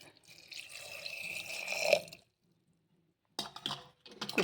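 Water is poured into a pot while cooking idli, a close, splashing pour for about two seconds, then silence before another short burst of pouring.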